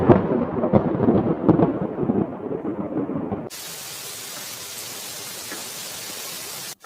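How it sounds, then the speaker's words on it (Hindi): Heavy rain at night with thunder: a rumbling, crackling thunder roll for several seconds, then a steady broad hiss of downpour continuing alone until an abrupt cut. "फिर उसी दिन रात को बारिश शुरू हो जाती है।"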